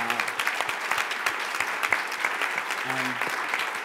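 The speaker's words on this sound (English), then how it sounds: "Maybe we could have a round of applause for Manal." Conference audience breaks into applause for a guest at an opening ceremony, sustained crisp clapping from many hands, with a brief hum or tone appearing underneath at the start and again near the end.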